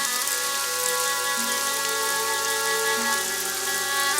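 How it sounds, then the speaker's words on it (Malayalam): Rain falls steadily in a soft, even patter, faint and continuous, with no voices. "മഴയിലൂടെ സേതുവിന്റെ കാറ് നീങ്ങി."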